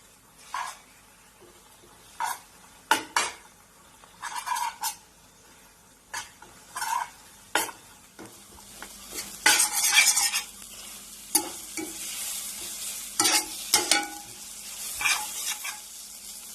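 Egg scrambled and stir-fried in a pan, a steady frying sizzle broken by repeated scraping strokes of a spatula against the metal, close and fairly loud, with no talking.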